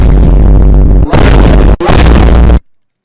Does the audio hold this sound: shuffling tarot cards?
no